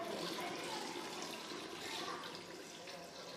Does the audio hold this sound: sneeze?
no